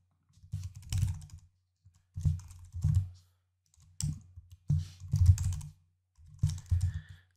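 Computer keyboard typing in five separate bursts of quick clicks, close and fairly loud, with short quiet gaps between them while an email address is entered to log into a web hosting account.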